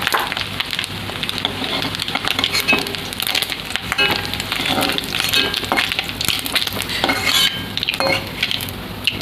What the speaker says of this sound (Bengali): ডিমটা আমার লাল লাল করে ভাজা হয়ে গেছে